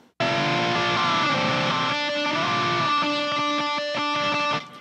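An electric guitar plays a melodic solo with sustained, bending notes and a slightly gritty distorted edge, ending in quick picked notes.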